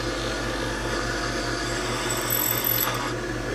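A metal lathe cuts a notch into a workpiece, giving a steady, loud motor hum with a continuous whirring cutting tone throughout and no talking.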